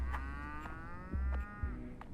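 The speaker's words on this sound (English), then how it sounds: "I hear cow." A cow in the video game Pathologic 3 gives a low, drawn-out moo, fairly faint over a rumbling game background with a few soft thuds.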